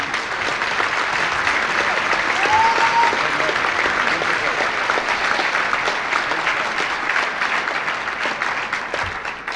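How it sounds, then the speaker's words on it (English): Sustained audience applause fills a large hall at a tribute dinner at the Grosvenor House Hotel, a dense, even roar of many hands clapping at a loud, constant level throughout. "you heard that applause, Len"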